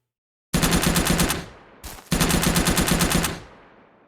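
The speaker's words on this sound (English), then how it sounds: "At least when you fire at them, they do fire back." Two long bursts of rapid automatic gunfire in the video game Survive the Forest during a firefight with enemy bots, loud and close with a brief gap between them.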